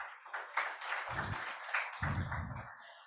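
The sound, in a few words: round of applause for Cameroon at training session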